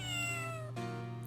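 A cat meows in the Phoenix Wright: Justice for All game, two clear drawn-out meows in quick succession, close and loud, with no talking over them.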